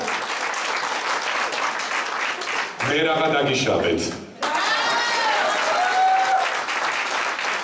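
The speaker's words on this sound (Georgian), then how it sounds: "ახლა მოდი საკუთარ თავებს დაუკარით ტაში რომ მოხვედით და გიხარიათ" An audience applauds at a music video premiere evening in Tashre restaurant, with a sustained, loud wash of clapping that is briefly broken by someone speaking and a burst of music before the clapping carries on.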